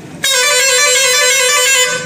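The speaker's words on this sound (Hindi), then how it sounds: "इधर बस का हॉर्न बहुत ही तेजी से बज रहा है" A bus horn blares loudly and continuously, starting abruptly after a brief quiet moment and holding a steady, harmonic-rich tone close by until the end.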